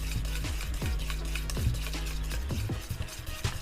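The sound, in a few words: beating butter, eggs and oil for plum cake batter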